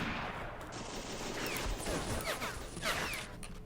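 Gunfire in the World War I game Battle of Empires 1914-1918 during urban combat, a series of sharp shots and crashing bursts over rumbling background noise, with no talk.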